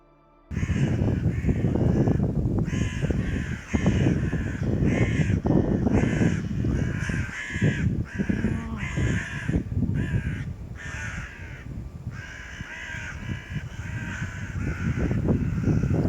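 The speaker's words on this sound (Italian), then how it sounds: "Qui le cornacchie avevano fatto un gran baccano" A flock of crows caws loudly and almost without pause, recorded outdoors while cycling, with harsh overlapping calls close by and a steady rustling background throughout.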